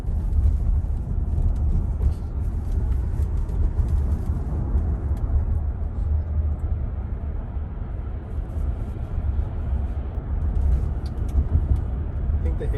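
A Tesla Model Y electric car driving, heard from inside the cabin as a steady low road rumble and tyre noise that holds evenly throughout with no engine note.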